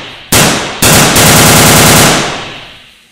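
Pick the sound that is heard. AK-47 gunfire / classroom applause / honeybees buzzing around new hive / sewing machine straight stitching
AK-47 gunfire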